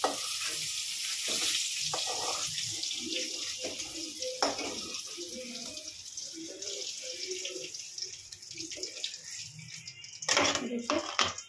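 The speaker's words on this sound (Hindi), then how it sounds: "देखिए पटल अच्छे से फ्राई हो गया" Pointed gourd (patal) frying in a pan gives a steady, close hiss of oil sizzle that runs throughout, with a voice talking over it in the middle.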